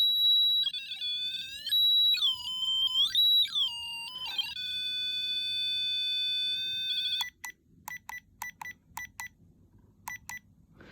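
A REM pod ghost hunting device sounding off with loud electronic sweeping warbles that rise and fall, then a steady tone, followed by a series of short, sharp, repeated beeps.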